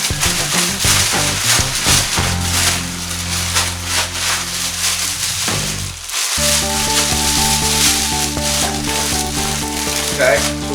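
Chicken broth pours into a hot pan for Thanksgiving turkey stuffing, raising a steady broadband sizzle that runs the whole time beneath loud, tuneful background music.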